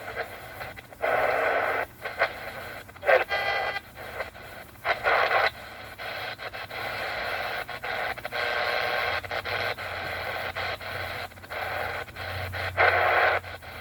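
Broadband hiss and crackle from a Kaito KA350 Voyager Trek radio tuned low on shortwave at full volume, loud and steady with choppy bursts and brief dips as the dial moves, no voices coming through.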